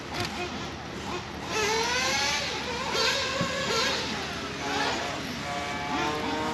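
An RC race car running at a race track, a high, buzzing engine whine that rises and falls in pitch as it revs, moderately loud and continuous, with people talking nearby.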